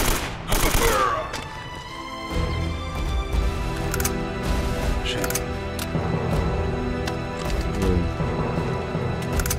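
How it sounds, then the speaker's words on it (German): Gunfire in the Uncharted game, a loud opening burst followed by scattered sharp shots over continuous music and ambient game sound. "Ballert doch schon wieder irgendwo noch einer hier."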